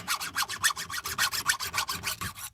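A file rasps across the rakers of a chainsaw chain in quick, even back-and-forth strokes, about a dozen scraping passes close up with nothing else heard.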